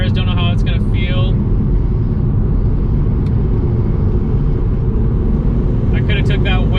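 An Audi TT 225 with a KO4 turbo drives through an off-camber canyon corner, its engine a steady low rumble under continuous road noise, with brief higher whines and a voice talking near the start and end.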